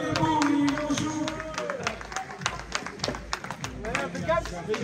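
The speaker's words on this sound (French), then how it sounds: "On applaudit Victor." A small group applauds Victor, scattered claps building into a brief rhythmic patter under ongoing talk and background chatter.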